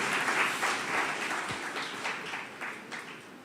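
A church congregation claps in thanks after worship, a fairly soft, diffuse patter of many hands that gradually thins out, with no speech over it.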